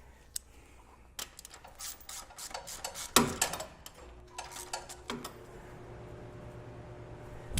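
Wrench and metal clicks while a top bracket bolt is worked out of a power steering conversion on a Toyota FJ40, sharp ratcheting and rubbing bursts scattered close by over a steady low background, no talk.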